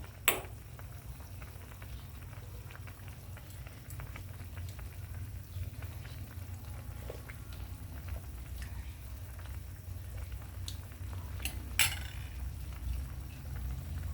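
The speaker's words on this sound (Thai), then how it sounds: "ต้มเดือดพึดพึดพึด" A fish curry with galangal and lemongrass bubbles steadily in a pot, a soft continuous simmering hiss with a faint crackle throughout, quiet and close, with one brief clack near the start.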